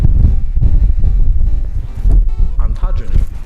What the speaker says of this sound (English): It's very windy today, Claire.